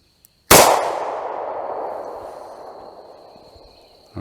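A single loud revolver handgun shot rings out close by, a sharp crack that decays into a long ringing tail over several seconds, no talking.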